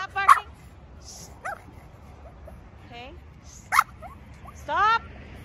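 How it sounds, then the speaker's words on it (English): A small dog gives a few short, high yips and barks spaced apart, close by, with whimpery tones between them in a quiet room. "Okay, stop barking."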